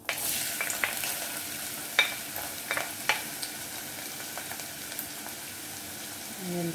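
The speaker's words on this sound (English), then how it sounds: "Once it sizzles, you know that that oil is ready" Steady, bright sizzling of onion frying in hot oil, with scattered crackles and pops throughout and a soft stirring scrape near the end.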